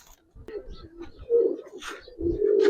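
Pigeons coo in a loft of Giribaz and coloured pigeons, low rolling calls rising and falling, growing louder and more continuous toward the end, with faint voices in the background.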